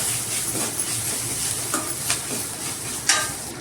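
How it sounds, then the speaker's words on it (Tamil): Ground coconut with green chilies sautés in a pan, a continuous soft sizzle and hiss with occasional light scrapes of stirring, no voices. "கொஞ்சம் நேரம் தேங்காயோட பச்சை மிளகாவோட பச்சை வாசனை போகிற வரைக்கும் நம்ம கொஞ்சம் வதக்கிக்கலாம்"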